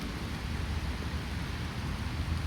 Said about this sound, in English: I don't care about the rain as long as it's not bucketing down